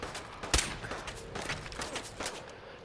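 Single sharp gunshot from a small-guns weapon in the video game Fallout 4, a loud isolated crack near the start followed by faint ambient game noise and softer distant pops.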